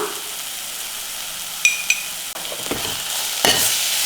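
Coriander powder and garam masala being stirred in a hot pan for a fenugreek and egg dish, a low sizzle under a few sharp spoon scrapes and clinks against the pan in the second half.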